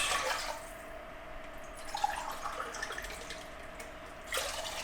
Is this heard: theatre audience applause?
no